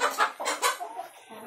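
Native village chickens and bondol chickens clucking together in a coop, a few short close squawks and clucks in quick succession, with no talk.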